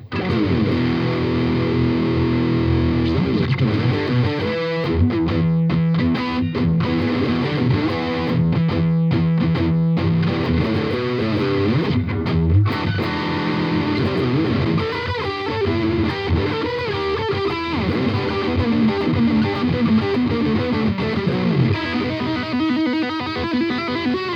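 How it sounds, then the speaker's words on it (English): Heavily distorted electric guitar through a Yamaha THR10 amp on its British high-gain setting, playing continuous riffs and chugging chords with a thick, saturated, Marshall-like tone and no voices. "loads of gain there, and I think sounds impressively close to like a classic Marshall stack"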